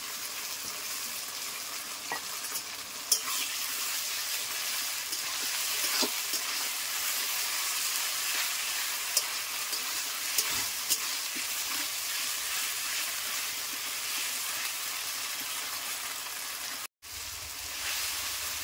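Ground spice paste of ginger, garlic, cumin, coriander, fennel, chili and onion fries in oil for a thin chicken curry, a steady close sizzle with the odd faint clink of stirring and no talking.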